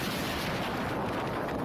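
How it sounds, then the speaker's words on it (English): A dense, rumbling roar of a massive explosion at a port in southern Iran fills the whole clip, a continuous blast-like boom that sounds heavy and close. "A massive explosion has shaken a port in southern Iran."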